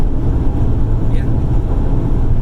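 A Chevrolet Camaro IROC cruises down the turnpike, heard as a steady low road and engine rumble from inside the car, loud and continuous, with a voice speaking over it.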